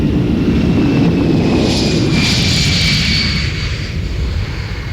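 A Boeing 747 jumbo jet roars past with heavy engine rumble and a thin high whine that swells then slowly eases, loud and close, with no voices.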